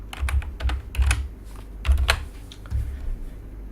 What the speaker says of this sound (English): Just type some message